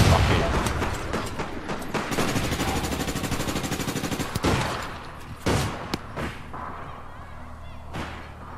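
Rapid automatic gunfire from the online shooter APB Reloaded, dense and loud bursts for several seconds, then scattered single shots as the firing thins out.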